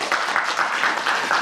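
Sustained, dense audience applause for the Kalinkovichi folk ensemble "Golosa" at a televised evening concert in the Gomel region, steady and fairly loud throughout, with no talk over it.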